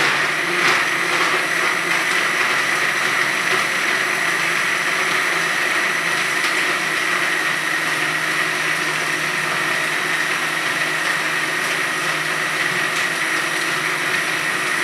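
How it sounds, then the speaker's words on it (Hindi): A blender grinds a protein shake in one loud, unbroken whirring drone that holds steady from start to finish, close up. "तो अब हम इसको ग्राइंड करेंगे अच्छे से 1-2 मिनट के लिए।"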